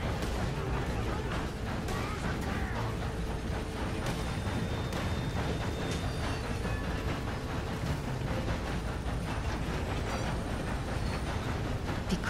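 A train in the Red Dead Redemption video game runs steadily, with a dense rumbling roar, rapid rhythmic clacks and occasional high squeals, sustained and continuous throughout.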